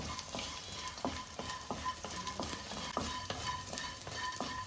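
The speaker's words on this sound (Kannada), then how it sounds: "ಕಂಪ್ಲೀಟಾಗಿ ತುಪ್ಪದಲ್ಲಿ ಇದನ್ನು ನಿಧಾನವಾಗಿ ಫ್ರೈ ಮಾಡ್ಕೊಳ್ಬೇಕು" Edible gum frying slowly in ghee over a low flame, a close bubbling sizzle punctuated by regular, rhythmic spatula strokes stirring the pan.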